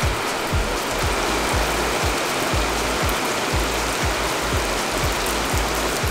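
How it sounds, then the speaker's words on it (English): Heavy rain pours in Coronado, Costa Rica, a loud dense hiss with regular low thumps of water dripping onto a surface nearby. "As soon as we made it back here, of course it's raining."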